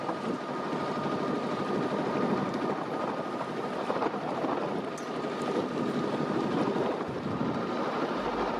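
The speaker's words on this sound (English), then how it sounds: "you can hear how windy it became as well" Wind buffeting a sponge-covered microphone aboard a river boat near Ludham Bridge, a constant loud rumbling roar with gusty fluctuations and no speech.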